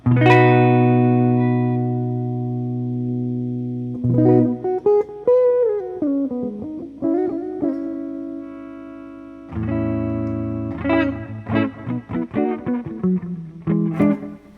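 Sustained notes and chords from an Epiphone Joe Bonamassa 1962 ES-335 electric guitar ring out while the tone knob sweeps gradually between darker and brighter, with pauses and decaying strums.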